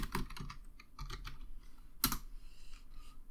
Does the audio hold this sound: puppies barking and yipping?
no